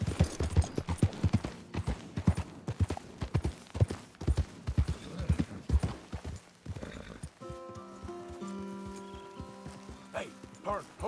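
A horse in Red Dead Redemption 2 gallops hard with fast, loud, close hoofbeats. A rider urges it on, and the hooves give way to a sustained tonal ambience near the end.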